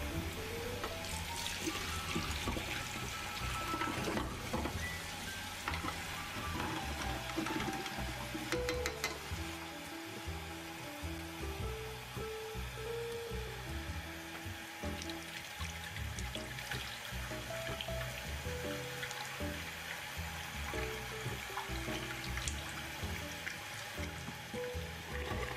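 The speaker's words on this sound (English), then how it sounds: "get a good couple tanks full of fresh water. I'll wash it around a little bit and then I'll dump it out quite a couple times" Fresh water swirls and sloshes inside a film developing tank during a rinse, a faint continuous trickling and churning close by, with no speech.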